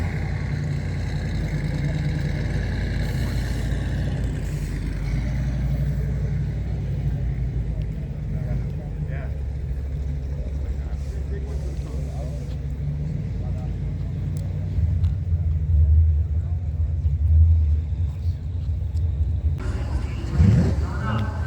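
A truck idles at a Miles of Mayhem road event with a deep, steady engine rumble that holds near and constant, briefly swelling louder near the end, while people talk faintly nearby.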